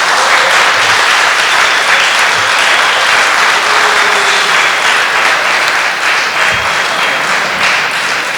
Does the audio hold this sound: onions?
no